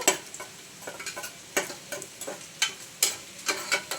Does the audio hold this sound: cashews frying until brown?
yes